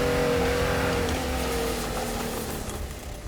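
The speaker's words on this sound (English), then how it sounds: "I hear the whir of Jevin's truck pushing up the hill again" A truck engine revs hard and steadily as it pushes up a hill on a rough overland route in Utah, a loud, close, sustained drone that eases slightly toward the end.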